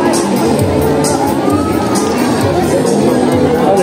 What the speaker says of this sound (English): A round of applause for our third contender.